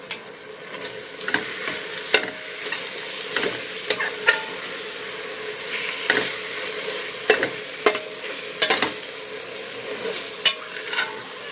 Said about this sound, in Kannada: ಇವಾಗ ಇದಕ್ಕೆ ಕಟ್ ಮಾಡ್ಕೊಂಡಿರೋ ಪುದೀನ ಕೊತ್ತಂಬರಿ ಹಾಕ್ತಾ ಇದ್ದೀನಿ